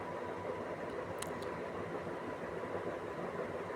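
The Sipra Express running out of Howrah rumbles heard from inside the carriage as a steady, moderate drone, with a brief faint squeal partway through.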